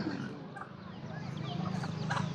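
Chickens clucking nearby in a rural yard, a continuous busy stretch of fowl calls with faint background chatter underneath.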